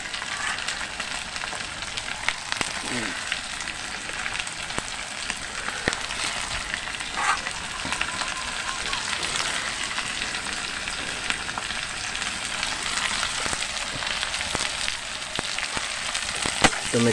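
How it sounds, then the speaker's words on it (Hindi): Onion, chili, garlic and tomato fry in a pan with a steady, dense sizzle and crackle that runs unbroken throughout, fairly close and even in level, with occasional faint stirring clatter and no talking. "पहले प्याज बाजी करना पड़ेगा।"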